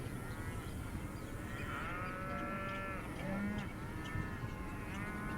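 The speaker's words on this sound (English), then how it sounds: "Cows responding in a really nice, quiet, controlled manner." Cattle being herded by an ATV give out several low, drawn-out moos at moderate distance over a steady rumbling motor and ambient noise.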